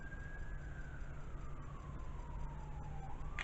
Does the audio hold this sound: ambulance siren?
yes